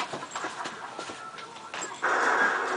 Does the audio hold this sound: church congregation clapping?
no